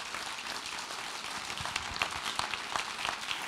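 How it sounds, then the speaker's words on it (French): Modest audience applause at a patrons' forum plenary, welcoming a museum director onstage; steady, fairly quiet clapping with no voices, holding evenly for a few seconds. "je pense qu'on peut l'applaudir."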